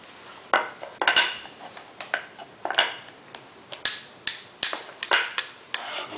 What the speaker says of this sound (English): Okay, you're gonna chop some watermelon.